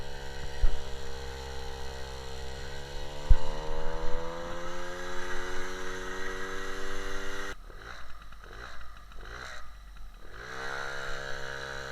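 An MBK 51 moped engine runs on a road test ride, a steady droning hum with harmonic tones that rise as it accelerates, then a rougher, choppy stretch with pulsing bursts later on, heard alone without talk.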